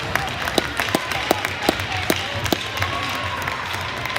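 A crowd claps in an echoing ice rink during a hockey game, with distinct rhythmic claps standing out over a steady hum of arena noise.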